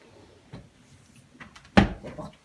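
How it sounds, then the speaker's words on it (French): Sliding wardrobe doors in an apartment in Ixelles, rolling and knocking in a few separate bursts, with one loud sharp clack as a door closes, fairly close in a quiet room. "Des portes coulissantes."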